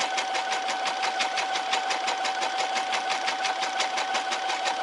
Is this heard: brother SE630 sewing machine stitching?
yes